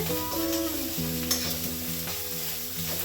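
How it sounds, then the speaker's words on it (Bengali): Spice paste with turmeric frying over a low gas flame in a pan, a continuous soft sizzle with occasional stirring scrapes and one sharp clink, no talking. "মশলাটা ভাজা হচ্ছে"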